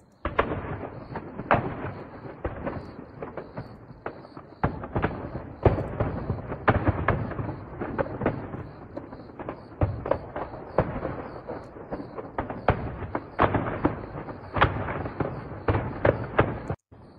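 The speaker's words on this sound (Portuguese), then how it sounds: "Dá para ver bastante explosões secundárias, sinal de que foi realmente um depósito de munição grande ali" Secondary explosions rip through an ammunition depot, a rapid irregular barrage of loud booms and crackling bursts, dense and continuous with some heavier blasts, without talk.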